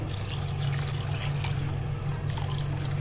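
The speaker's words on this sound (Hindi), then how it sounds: "अब हम इसमें डालेंगे पानी।" Water pours steadily into a pot of chana dal, a continuous trickling stream with a low, even rumble throughout, close and moderately loud with no talking.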